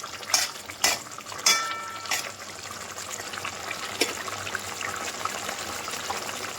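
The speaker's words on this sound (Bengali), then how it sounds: "পাঁচ মিনিট একটু হাই ফ্লেমে গ্যাসটা হাই করে ভালো করে একটু ফুটতে দিয়ে দিব মাছগুলো" Katla fish kalia curry bubbling in a pan on a high gas flame, opening with a few sharp clinks and scrapes of a spoon against the pot, then a soft steady simmering hiss with faint bubbling, no voices.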